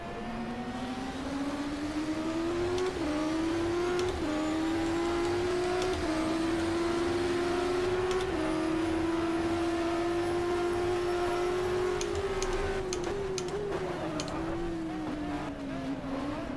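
An Audi race car in the GTR2 racing video game drones steadily at high revs, its engine pitch rising and dipping slightly through gear changes and corners, loud and continuous with no talk.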